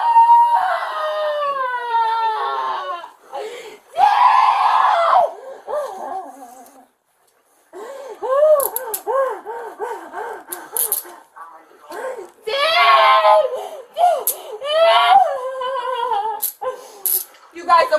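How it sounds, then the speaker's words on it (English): A woman screams and wails repeatedly during a police arrest, her cries rising and falling in long bursts between officers' shouted commands, loud and close, with a short quiet gap midway. "Now she's screaming for dad."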